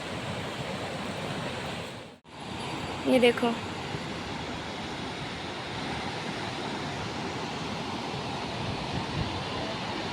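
A steady, loud rush of fast-flowing river water fills the scene continuously, with a brief voice speaking over it.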